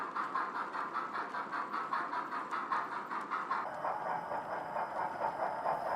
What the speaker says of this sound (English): Number 2843 on the up main with loaded coal wagons for the Midlands.